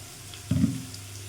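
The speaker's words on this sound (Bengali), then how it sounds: "এর মধ্যে আমি সামান্য জল দিয়ে দেবো" Splash of water poured into a bowl of salt, turmeric, cumin powder and Kashmiri chilli powder, a brief close pouring sound lasting about a quarter second against quiet kitchen background.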